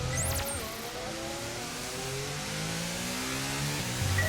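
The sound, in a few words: Formula 1 car engine during practice lap, F1 22 video game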